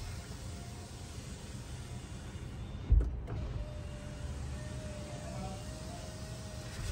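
The power window of a new car runs under a steady whirring motor as the glass travels fully up and down. A single clunk marks the stop partway through, with no talk.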